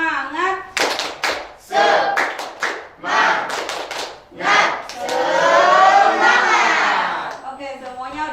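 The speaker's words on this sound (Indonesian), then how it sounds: "Tepuk semangat." A classroom of schoolchildren claps a patterned rhythmic cheer together, loud bursts of hand claps mixed with shouted voices and chanting, close and lively.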